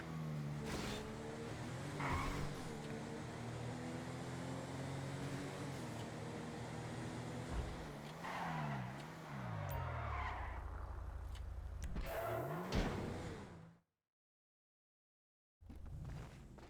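Car driving and skidding in Grand Theft Auto Online on PS5, with engine revving, wavering tyre screeches and a sharp skid before the sound cuts out briefly, then returns.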